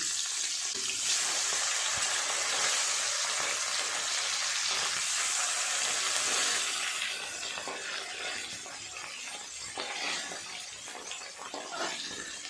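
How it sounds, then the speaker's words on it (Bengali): Parshe fish fries in oil in a pan with a loud, steady close-up sizzle that eases slightly after the fish is turned. "মাছের এই পাশটা ভাজা হয়ে গেছে, উল্টে অপর পিঠটাও ভালো করে ভেজে নেব"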